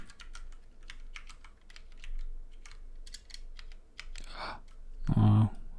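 Rapid typing on a new computer keyboard, with a steady run of close, crisp key clicks and a couple of louder clacks near the end.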